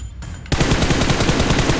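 Rapid automatic gunfire from a PUBG Mobile match, a dense stream of shots starting abruptly after a brief quieter lead-in and continuing steadily and loudly to the end, with no talk over it.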